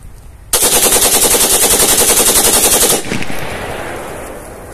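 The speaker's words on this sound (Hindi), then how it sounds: "इसने अपने दोनों मैगजीन भिजवाए, वो टोटल राउंड फायर किए हैं" A 44 bore rifle built in an AK47 shape is test fired outdoors in one long, rapid, very loud burst of about two and a half seconds, followed by a fading echo.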